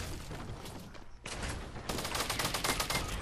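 Rapid gunfire in the Fortnite video game rattles in dense, continuous bursts. A brief gap comes in the middle, then the shooting resumes even louder and thicker.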